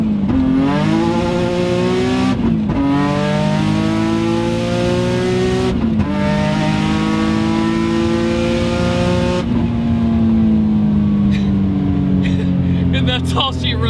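Single-turbo Nissan 350Z with an HR VQ engine revs loud and close, rising and falling in repeated pulls with brief gaps between them, deep and aggressive, with no talk over it.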